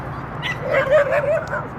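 A dog at a park gives a short whimpering, yipping vocalization, a brief whiny cry rising and falling close by, with faint background sound around it.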